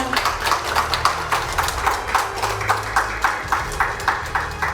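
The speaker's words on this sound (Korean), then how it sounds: "여러분 경기도청에 함께하고 계신 모든 분들께 큰 박수 부탁드리겠습니다" An audience at a commemorative Information Security Day ceremony at a provincial government hall claps in a steady, rhythmic beat, the evenly spaced claps continuing over a low hum throughout.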